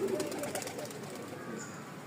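Native pigeons coo softly at a pigeon farm, the low calls coming faint and from some distance against a steady background hiss.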